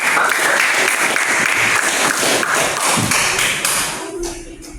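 Students in an Indonesian-language classroom applaud together, a loud burst of close, brisk clapping with some taps and thuds that carries for about four seconds and then fades out.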